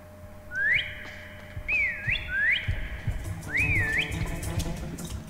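Several rising-and-falling whistled notes in The Last Tinker video game, played one after another over a low rumbling game background with no talk.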